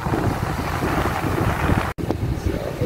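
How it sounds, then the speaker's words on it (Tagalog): Strong wind buffets the microphone beside the sea at a boat dock in Caramoan, a steady loud rush across the whole stretch with a brief dropout near the end. "tapos malakas ng hangin, tapos malakas din yung alon"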